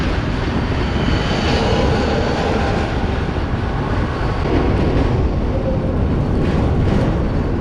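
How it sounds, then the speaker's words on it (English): Loud, steady rumble and rattle of a tram running through Kaliningrad, heard from on board, with broad continuous noise and faint squeals rising briefly, no talk. "The tram is pretty noisy."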